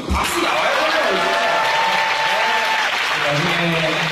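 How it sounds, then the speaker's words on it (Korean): A studio audience on a Korean talk show breaks into applause, a loud, steady burst of clapping that fills the moment while a voice talks over it. "이건 박수 나와야"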